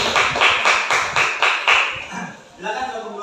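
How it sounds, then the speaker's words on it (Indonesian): A classroom applauds a student group after their presentation, a burst of rhythmic clapping of several evenly spaced claps that fades out, followed by speech. "Beri tepuk tangan dulu untuk kelompok tadi."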